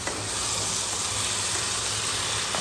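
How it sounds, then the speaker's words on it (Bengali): Crab curry sizzles steadily in a hot pan while being sautéed and stirred with a spatula, a close, continuous frying hiss with no voices. "সেটাকে আমি রান্না করছি কষিয়ে।"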